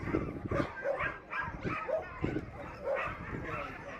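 Sled dogs bark and yip at the finish of an eight-dog race in Tok, Alaska, a string of sharp outdoor barks at moderate distance mixed with crowd and commentary noise.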